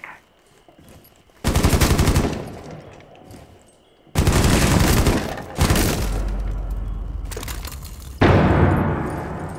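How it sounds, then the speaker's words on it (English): Breach charge detonation in Rainbow Six Siege amid bursts of gunfire: several abrupt loud blasts and rattling volleys with crackling debris, separated by short quieter gaps, the final burst heavy and close. "Setting a sequential breach"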